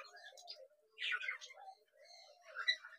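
Birds in a breeding aviary housing conures, cockatiels, budgies and Java sparrows give faint, scattered chirps and short calls, a few bursts in a quiet room.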